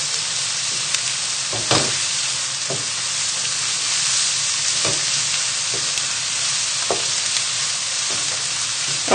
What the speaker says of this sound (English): you can start to smell those onions cooking already